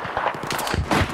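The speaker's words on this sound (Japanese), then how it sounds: "え、どこで撃ってる？" Rapid gunfire in the video game Battlefield 4, a cluster of sharp shots from a nearby firefight, each short crack blending into the next in a dense, steady volley.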